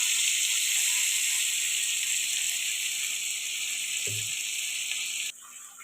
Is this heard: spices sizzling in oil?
yes